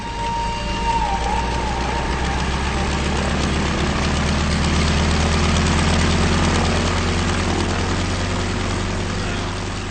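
A loud, steady drone of an airplane engine runs throughout, a constant low rumble with a faint rising whine and no pauses.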